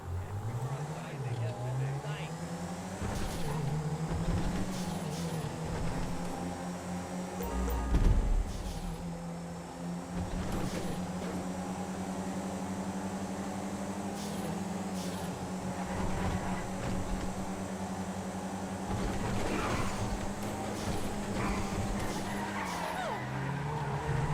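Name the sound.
race cars driving in video game GTA V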